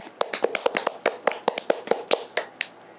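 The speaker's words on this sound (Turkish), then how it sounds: "Alkış." Light hand clapping from a few people after a spinning-wheel prize draw naming a country winner, around a dozen separate sharp claps in an uneven rhythm, close by and fairly quiet, with no talking over them.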